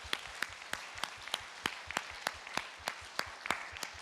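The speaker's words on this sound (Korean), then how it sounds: "우리 하나님께 영광의 박수 올려드리겠습니다" Church congregation during a Sunday service clapping in unison, a steady, evenly paced rhythm of single sharp claps, fairly faint and slightly distant, with no talking over it.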